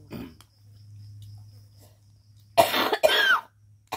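A person coughs twice in quick succession, close and fairly loud, after a quiet stretch with a low steady hum and faint outdoor ambience on a farm.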